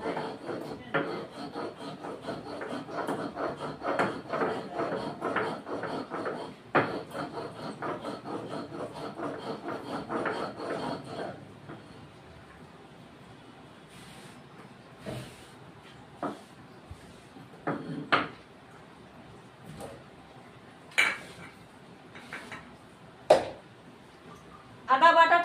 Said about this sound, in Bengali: তা বন্ধুরা আমি আদাটা বেটে নিই।